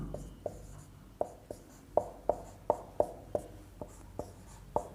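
Chalk or marker tapping and scraping on a classroom board during a chemistry lesson, a series of about a dozen quick, crisp strokes in an uneven rhythm, close and clear with no talk over them.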